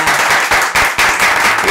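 A studio audience applauds an athlete on a Spanish-language television magazine show, a short loud burst of clapping that fills the whole moment with steady, dense hand claps and crowd noise.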